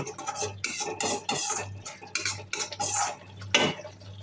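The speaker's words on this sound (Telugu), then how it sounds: "టమాటో పేస్ట్ను బాగా వేయించుకోవాలి పచ్చివాసన లేకుండా చూసుకోండి" Tomato paste frying in oil for dal makhani, stirred with a utensil that scrapes and clinks against the pan in repeated bursts, close and clear, over a low steady hum.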